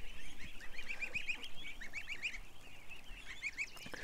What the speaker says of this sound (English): These geese, man, they're like a show in themselves.